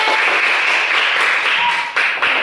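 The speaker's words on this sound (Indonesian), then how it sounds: "kasih tepuk tangan untuk kelompok 3" Elementary school classroom applause for a student group, a dense, loud, continuous clatter of many hands close by, with a brief dip near the end before it swells again.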